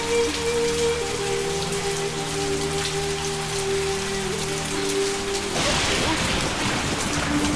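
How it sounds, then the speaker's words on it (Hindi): Heavy rain pours onto a street in a dense, steady hiss that swells louder and harsher near the end, with no clear speech. "इतनी बारिश हो रही है"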